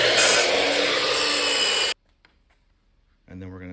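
A miter saw cuts through wood trim, a loud, close whining buzz lasting about two seconds before stopping abruptly, followed by silence and then the motor starting up again.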